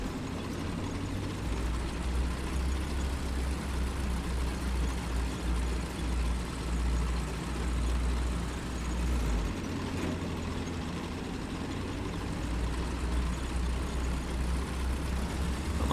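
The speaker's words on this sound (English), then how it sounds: "the plane engine sounds are ridiculous" Aircraft engines in the War Thunder combat game give a steady, loud, low droning rumble that holds without a break throughout, with no talking over it.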